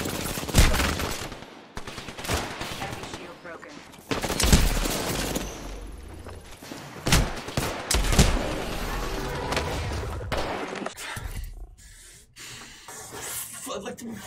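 Bursts of automatic gunfire ring out in a shooter game, loud repeated volleys separated by short gaps, mixed with other game noise across the stretch.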